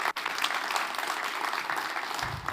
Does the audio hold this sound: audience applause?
yes